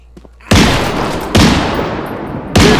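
Shotgun blasts fired in the VR video game SURV1V3: three loud, booming shots spaced about a second apart, each with a sharp attack and a long decaying tail, with no talking.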